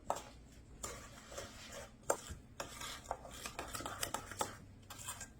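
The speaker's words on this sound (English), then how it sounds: "we're going to mix that in" Sugar stirred into a bowl of ingredients for a blueberry crescent dessert, with scraping and clinking of a spoon against the bowl in irregular strokes, fairly quiet and close.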